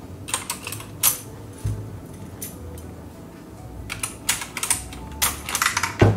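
Typing on an Akko computer keyboard at close range: bursts of crisp keystroke clicks arrive in uneven clusters, with quieter pauses between them and no talking.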